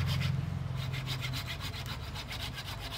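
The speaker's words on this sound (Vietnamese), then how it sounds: "Cưa lại cưa cùn nữa chứ. Mà cắt đấy anh em xem." A blunt hand saw cutting through wood, fast steady back-and-forth rasping strokes, close and loud with no voices.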